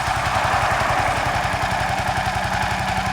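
A Kawasaki KLX 250 motorcycle engine, fitted with a new injector, idles low just after being restarted, a steady close thumping putter with even rapid pulses throughout and no voices.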